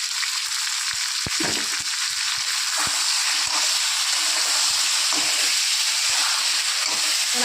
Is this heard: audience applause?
no